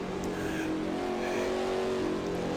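Race car engine in Assetto Corsa on the Reims circuit, a steady droning whine holding near-constant pitch with a faint shift midway, heard up close and continuous.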